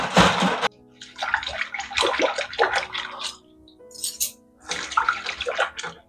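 Running water splashes in a kitchen sink as utensils are rinsed and clattered, bursts of sloshing and clinking broken by short quieter pauses.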